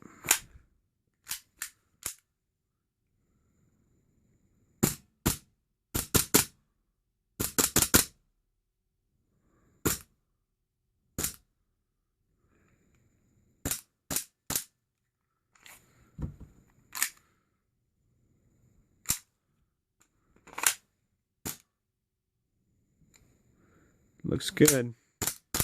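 A WE-Tech Big Bird M&P airsoft pistol firing on a CO2 magazine, with sharp cracking shots in single and quick rapid bursts separated by silence, and someone speaking briefly near the end.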